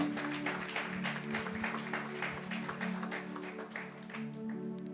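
Church congregation claps during a Sunday resurrection sermon, a steady dense patter of many hands at a moderate distance, continuous throughout without a clear break.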